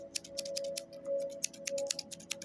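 Basic scissors snip repeatedly in quick, irregular bursts, a string of short crisp cuts close by over a steady low hum.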